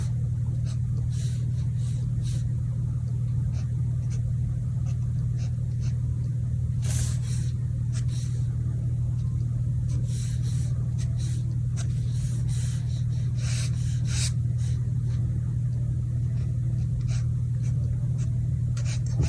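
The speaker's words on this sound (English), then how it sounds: "I'm just gonna sketch in something that looks kind of like a modern house" A pencil sketches a modern house on paper in close, scratchy strokes that come in quick repeated bursts over a steady low electrical hum.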